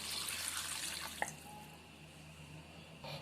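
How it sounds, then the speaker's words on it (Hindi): Water is poured into a pot of sea crab curry as it cooks. A soft, steady hissing trickle runs throughout with one small clink, faint and alone without voices. "अब हम इस पर पानी ऐड कर लेते हैं।"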